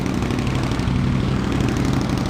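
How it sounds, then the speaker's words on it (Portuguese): An Indian Scout motorcycle engine fitted with a new, noisy stainless steel exhaust tip runs steadily and loudly nearby, a continuous low rumble that holds even from start to finish with no voices. "eu tô com uma ponteira nova de inox, barulhenta"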